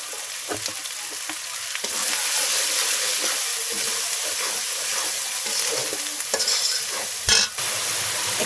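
Ginger paste and coriander powder frying in a pan of oil for a Bengali fish curry, a loud steady sizzle with hiss, interrupted by scraping stirs and a brief clatter near the end.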